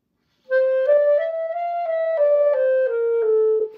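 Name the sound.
timid muffled clarinet tone, too little reed buzzing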